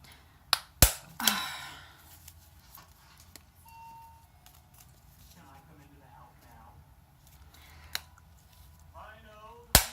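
A hand paper punch clacks through a paper bag booklet, giving a few sharp, isolated clicks and snaps spaced across a quiet room, with faint talking in between.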